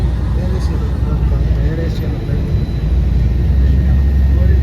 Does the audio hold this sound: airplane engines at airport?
yes